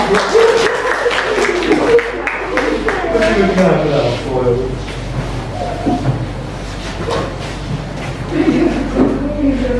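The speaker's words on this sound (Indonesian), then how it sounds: "Beri aplaus untuk kelompok 3" Classroom applause for a student group during a teaching practice assessment, with scattered hand clapping rising and falling over several seconds, mixed with voices talking throughout.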